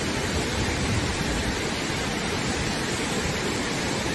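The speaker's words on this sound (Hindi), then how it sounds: "ये देखिए झरना शाम का" A waterfall in the hills pours down in a dense, steady roar of rushing water, broad and unbroken for the whole stretch, with no voices over it.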